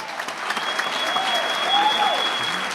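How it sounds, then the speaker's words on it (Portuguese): A church congregation claps together in sustained, fairly loud applause during a celebration service, with a faint tonal hum and some crowd voices mixed underneath. "Você pode aplaudir Jesus?"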